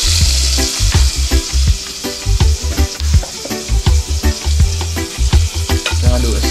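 Minced garlic tossed into crispy bacon in a hot pan, a loud close sizzle broken by repeated scraping stirs and clatters in an uneven rhythm, with no talking.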